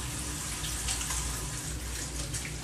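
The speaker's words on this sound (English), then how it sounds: "Let me just wash my hands really quickly." A tap runs at full flow as hands are washed at a sink, a loud steady gush of water up close that holds without interruption.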